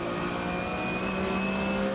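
Race cars, including a Corvette, an Aquila and a Stealth, roar around the Ring Djursland circuit in a steady, dense engine drone, loud and continuous, with no voices over it.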